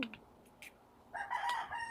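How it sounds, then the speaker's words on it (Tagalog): A rooster crows once, moderately near, after a couple of brief soft sounds and a short quiet stretch. "Yan na naman ang manok."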